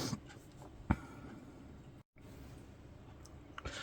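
A pen or pencil scratches lightly over small wooden panels on a 1/35 scale German WWII gondola model, a faint continuous drawing sound punctuated by a couple of soft taps.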